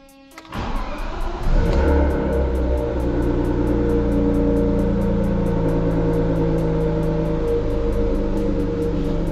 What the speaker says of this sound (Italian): adesso andremo a fare avviamento per un minuto circa e dopo rispegniamo l'auto